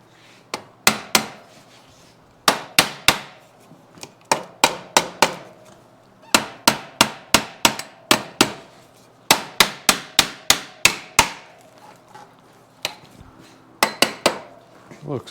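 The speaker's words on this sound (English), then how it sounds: "maybe a rubber hammer is going to be in place there" A rubber hammer striking repeatedly on a Yamaha CT-3 motorcycle, close and sharp, in quick bursts of four to six blows with brief pauses between them.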